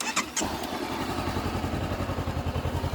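A Honda CB500X motorcycle engine cranks and fires up, then settles into a steady, throbbing idle with a regular low pulsing rhythm, close by.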